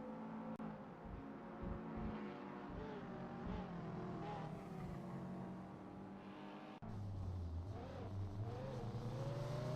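Race cars in a sim racing game, a sport cup series, drone and rev continuously, with engine pitch rising and falling as they run close together, steady and fairly loud throughout.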